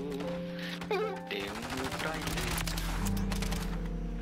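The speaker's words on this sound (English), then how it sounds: "They're shooting at us." Rapid Uzi fire crackles in a bursty rattle during an online shooter video game, over a tonal music bed with some background voices.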